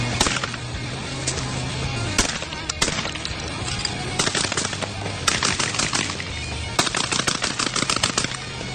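An Extrema 2 shotgun fires in dense, loud, overlapping bursts of blasts. The noise is continuous and harsh, with no talking.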